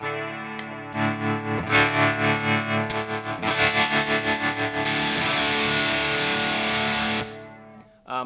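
Electric guitar played through a multi-effects unit cycles through clean, overdrive, distortion and high-gain tones: strummed chords ring out, then pulsing rhythmic chops, then a thick sustained saturated wall of sound that cuts off abruptly.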